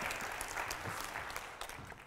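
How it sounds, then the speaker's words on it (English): A conference audience at a weight-management talk gives a short burst of soft, distant clapping lasting about two seconds. "Just give her a big round of applause."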